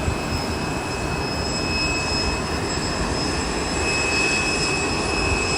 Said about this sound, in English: There's another shot of that American 737-800 heading out to Dallas-Fort Worth today.